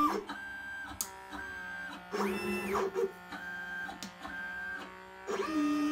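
A LitePlacer pick-and-place machine runs on its own, its motors whirring in repeated rising and falling moves with short pauses between them as it shifts and places parts and swaps nozzles.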